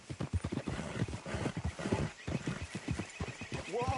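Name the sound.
horses trotting in Red Dead Redemption 2 video game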